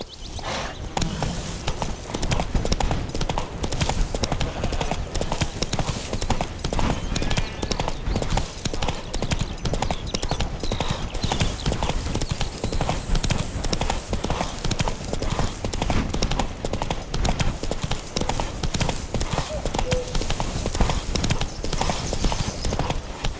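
Horse hooves gallop in a steady, rapid clip-clop rhythm throughout the stretch, a continuous close ride in The Witcher 3: Wild Hunt, with no pauses and only faint background game ambience.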